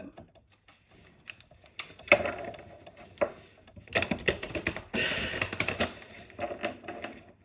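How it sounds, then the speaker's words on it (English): Stiff, cold playing cards being shuffled, a run of quick dry riffles and snapping flutters at close range, growing louder and busier midway before trailing into scattered clicks. "My shuffling is real bad."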